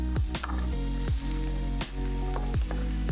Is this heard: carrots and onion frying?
yes